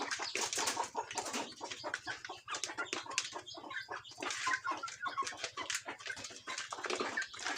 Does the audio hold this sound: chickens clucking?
yes